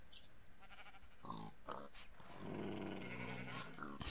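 A sheep in a video game bleats a few times in short, bright calls with gruff, growling bursts, heard close and fairly quiet over a soft background.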